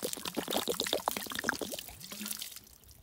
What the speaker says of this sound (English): And then wash it away with water.